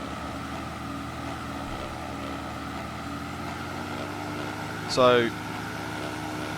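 A Skyward Simulations DA-50RG running on Jet A1 fuel hums steadily through the clip in the MSFS flight simulator, with a brief rising whine near the end. Someone speaks over it.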